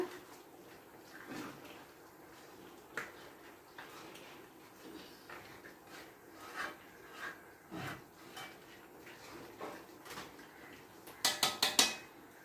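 A spoon stirs crab curry in a pot, making soft scrapes and scattered metallic clinks that end in a quick cluster of sharper taps against the rim, close and quiet.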